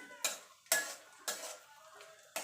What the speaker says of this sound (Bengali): এবার কিশমিশটা দিয়ে দেবো এবার ভেজে ভালো করে তুলে নেব